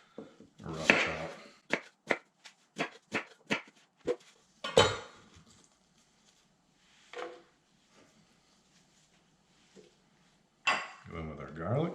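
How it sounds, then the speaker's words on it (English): Half a yellow onion is roughly chopped with a knife on a board, about a dozen sharp, close knocks in an uneven rhythm, followed by quieter clinks and a brief voice near the end. "We're just going to do a rough chop."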